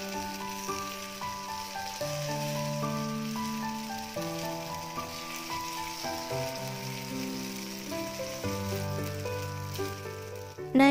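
Eggplant stuffed with egg fries in a pan with a steady, soft sizzle that runs the whole time under louder background music.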